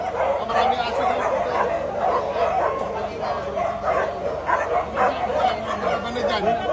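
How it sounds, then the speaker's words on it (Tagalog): Several dogs yip, bark and whimper in a dense, continuous chorus close by, with people's voices talking underneath throughout. "Maraming aso dito."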